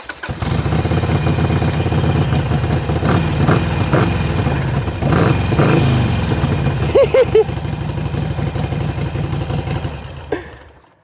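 A motorcycle engine runs close by with a steady, throbbing low rumble and a brief rise in revs before cutting off near the end.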